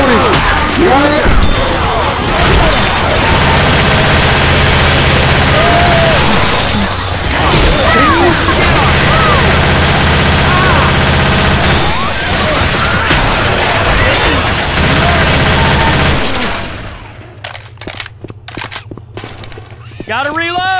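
Rapid gunfire and crashing impacts from a Left 4 Dead 2 zombie battle at a dam, loud and dense for most of the clip with voices calling out over it, then dropping to sparser shots near the end.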